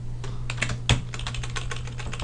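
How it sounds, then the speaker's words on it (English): Computer keyboard typing while entering copy-paste shortcuts in an Excel spreadsheet: steady, close clicking keystrokes with one sharper key press near the start, no talk. "I'm just using the Control-C, Control-V because I like using the keyboard more than I like using the mouse"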